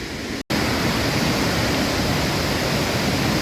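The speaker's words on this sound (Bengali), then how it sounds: "ওই যে নিচে ঝর্ণা পড়ছে, উপর থেকে সিঁড়ি থেকে ঝর্ণা পড়ে যাচ্ছে, বেয়ে যাচ্ছে" Water tumbling down the stepped rocks of Turkey's Samandere waterfall produces a loud, unbroken broadband rush, interrupted only by a momentary dropout near the start.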